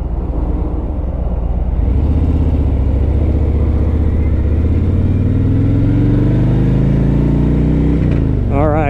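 A 2020 Harley-Davidson Road Glide Special engine pulls up through its gears with a loud, close, rising rumble that swells steadily before dropping off at the end.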